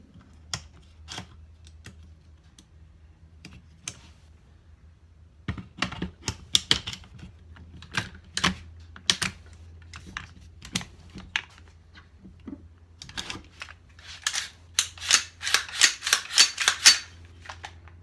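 A DPMS Oracle rifle being reassembled and dry-fire function checked: a long run of sharp metallic clicks and clacks, scattered at first, then quicker and denser toward the end, close and crisp with no talk.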